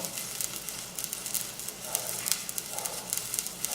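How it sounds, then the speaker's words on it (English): A steady, soft hiss of rice water sizzling fills the pot as it nears a boil, with faint crackles and pops scattered throughout and no voices. "You can hear it sizzling, and you start to see a few bubbles rising from the bottom."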